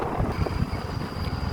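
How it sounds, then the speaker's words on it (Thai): Strong wind roars and buffets against the microphone outdoors on an old route in Laos, a dense, rumbling gust with no break across the short stretch. "โอ้ลมแรงโคตร"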